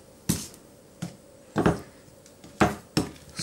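Knife chopping through a block of vanilla plombir ice cream on a board, five or six sharp, separate close-up cuts with short pauses between them, no talking.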